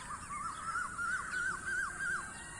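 Birds calling nearby among a flock of pigeons: a run of about six harsh, cawing calls in a steady rhythm over a constant background hiss.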